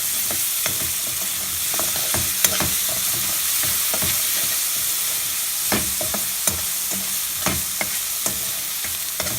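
Ginger-garlic paste fries with cauliflower in a pan with a steady, close sizzle, while a spoon stirs it in regular scraping strokes and occasional sharp knocks against the pan, with no talking.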